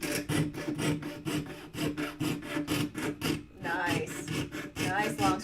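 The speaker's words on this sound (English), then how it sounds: "when you're sawing, you don't want to push too hard because you're forcing it and the saw is not allowed to work" A hand saw cuts through wood in steady, rhythmic back-and-forth strokes. The rasping is close and continuous, with a short pause midway before the sawing resumes.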